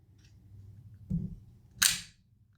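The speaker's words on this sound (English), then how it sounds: "that sucker's going to shoot down the blade." A cheap spring-loaded out-the-front knife fires its blade down with a sharp metallic snap, preceded by a softer mechanical click during reassembly, both close and loud against near silence.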